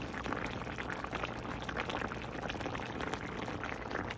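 Thick beef stew bubbling and simmering steadily in a pot, a dense continuous burble with no voices, close and moderately loud throughout.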